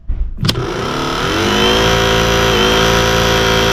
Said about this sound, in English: let me show you what a starter motor looks like when it's actually working.